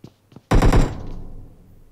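Gunfire in the mobile battle royale game PUBG Mobile: a quick burst of loud close shots fires in rapid succession, then rings out and fades, after a couple of faint knocks.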